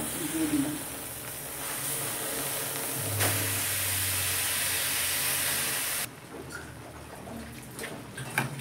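Fresh-washed drumstick leaves hit a hot wok and set off a steady, close sizzle and hiss that holds for several seconds, then suddenly drops to a quieter crackle, with no talking heard over it.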